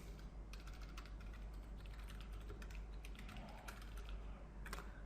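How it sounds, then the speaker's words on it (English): Fingers tap out an email address on a computer keyboard, a quiet, close run of irregular key clicks over a low steady hum. "let me type my email ID"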